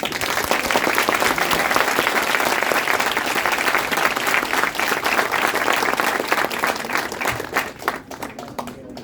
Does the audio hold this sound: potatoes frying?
no